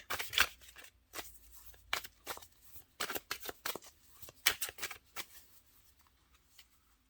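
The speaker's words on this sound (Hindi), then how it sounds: "दो कार्ड और निकालूंगी मैं।" Tarot cards being shuffled and drawn by hand, a series of short papery riffles and flicks in irregular bursts, close and fairly quiet, tapering off toward the end with no speech.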